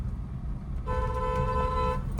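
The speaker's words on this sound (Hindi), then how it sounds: "लॉन्ग हॉर्न प्रेस करो" One sustained car horn blast of about a second over steady engine and road rumble.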